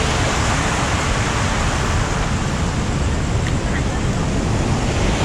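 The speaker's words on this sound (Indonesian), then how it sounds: "Ombaknya semakin lama semakin naik." Ocean surf on a rocky shore at Karang Hayu, with rising waves breaking in a constant loud roar under steady wind noise on the microphone, and no distinct individual crashes.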